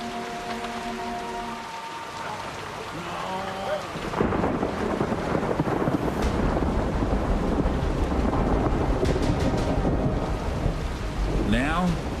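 A thunderstorm with heavy rain pounding surfaces, a low rumble of thunder building before a dense, loud downpour that continues steadily, with a few faint tonal sounds near the start.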